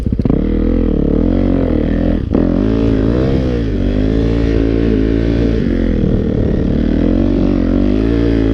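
Yamaha YZ450F dirt bike engine idling and revving in cold snowy conditions, a loud, close, continuous four-stroke rumble with rising and falling throttle blips throughout, no talking.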